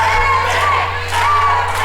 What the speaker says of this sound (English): An epic chant ensues in the crowd.